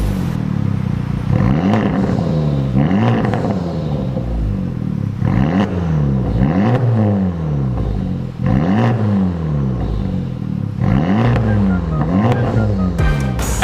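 A Honda Civic Type R FL5 fitted with an MHD downpipe and front pipe exhaust revs again and again, loud and close, each sharp climb falling back before the next in a steady repeating cycle.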